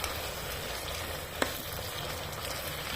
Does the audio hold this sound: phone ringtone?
no